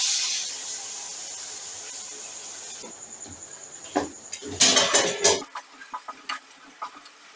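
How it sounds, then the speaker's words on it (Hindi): Chicken dropped into hot oil with garlic in a pan hisses in a steady background sizzle, with a burst of louder crackling and spatter midway, then scattered pops as it settles. "अब इसके अंदर हम चिकन डाल देंगे।"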